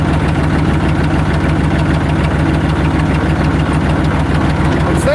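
A car engine idles with a steady low rumbling throb, loud and close, its muffler leaking exhaust.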